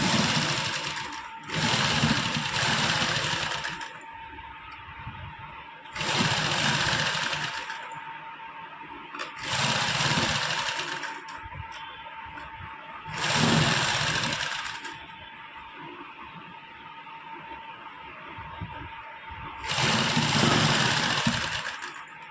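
A domestic sewing machine stitches cutwork lace onto the hem and sleeves of a kameez suit, running in five steady whirring bursts of several seconds each, separated by quieter pauses with a faint hum.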